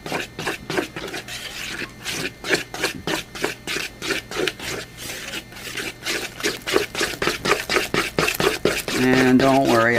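A spoon rhythmically scrapes and rubs through thick batter with baking powder in a bowl, quick repeated strokes close up, ending with a brief tonal sound.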